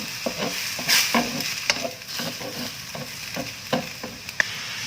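Thick wok stir-frying dried mie siam spice paste: a spatula scrapes and taps in an uneven rhythm over a soft sizzle, close up, with no talking.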